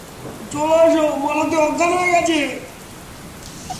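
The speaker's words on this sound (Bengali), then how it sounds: "বারান্দায় ধেয়ে আসা বৃষ্টির ছাটে" Rain driven onto a verandah splashes steadily, a soft continuous hiss running through the whole stretch, with a drawn-out voiced sound over it in the middle.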